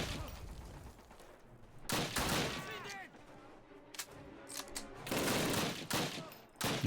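Bursts of machine-gun turret fire from Call of Duty (2003), loud, rapid rattling volleys separated by short gaps, with battle noise rumbling between them.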